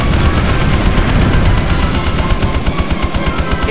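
Aircraft cannon fire in the PS1 game Eagle One: Harrier Attack, a loud continuous rattle of rapid shots over jet engine roar, with the individual bursts growing more distinct toward the end.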